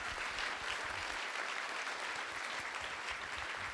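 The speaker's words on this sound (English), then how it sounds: "Would you give him another round of applause?" Audience applause at a 2014 centenary summit on youth engagement: a full, sustained round of clapping from a crowd, dense and even throughout, with no speech over it.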